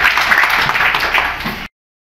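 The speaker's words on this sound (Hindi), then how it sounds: "जोरदार जोरदार तालियां आपके नाम की" A crowd at a political rally bursts into applause, dense clapping that stays loud and steady for under two seconds before cutting off abruptly.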